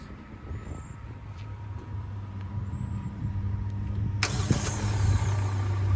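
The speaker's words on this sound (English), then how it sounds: "I'm gonna turn the car on and see just how it runs." A car engine cranks and catches, then settles into a steady idle, close by and without any talk.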